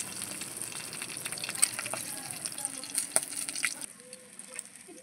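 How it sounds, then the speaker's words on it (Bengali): Fish fries in hot oil with a steady crackling sizzle, punctuated by a few sharp spits and clinks before the noise drops quieter toward the end. "আবার কিছুটা মাছ আছে, ভেজে নেব।"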